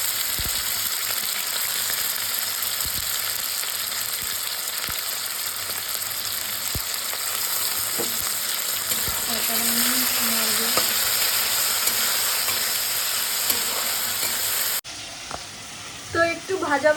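Potatoes fry in hot oil in a home kitchen, cooked for a dish with raw peanuts and chili. A steady close sizzle runs throughout, with occasional utensil taps and a short break near the end.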